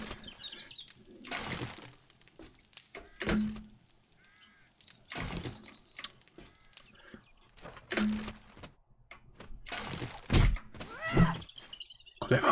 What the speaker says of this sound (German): Kommt einfach ein Vogel